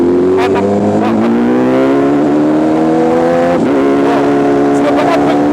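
MV Agusta Brutale 1000 motorcycle engine on the Nürburgring, revving loudly and rising in pitch through quick upshifts, then a sharp blip and drop on a downshift, close and continuous with wind noise.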